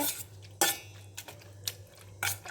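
Cooked vegetables being lightly mashed in a kadai: a few sharp metallic scrapes and clinks of a utensil against the pan, spaced irregularly over a low hum, with no talking.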